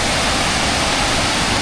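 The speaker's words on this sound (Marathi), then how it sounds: "आता पाऊस पण पडतो आहे बघा" Rain falling at Jambhe Dam in Shahapur, a dense, steady hiss filling the air without pause, close and loud with no voices.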